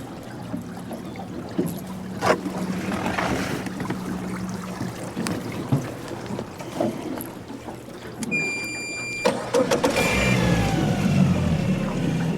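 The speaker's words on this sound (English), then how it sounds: "my trolling motor just kicked up wide open" A boat's trolling motor runs at full throttle on a dam tailwater during catfishing, a steady mid-level drone with water and wind noise around it and a brief high electronic beeping near the end.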